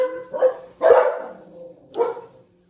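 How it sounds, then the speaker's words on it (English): A pet dog barks three times in a home kitchen, loud and close, each bark sharp with a short gap between them, the last one a little softer. "Sorry, but this is real life and my dog's bark."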